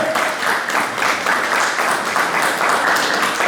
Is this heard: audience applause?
yes